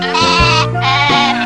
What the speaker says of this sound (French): C'est quoi ça? Une brebis.